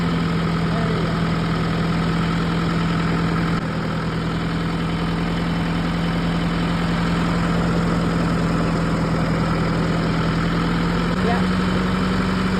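A farm tractor engine runs at a steady idle-like drone while the tractor is driven along a rural road. The low hum and vibration stay constant and close throughout, with no talk over it.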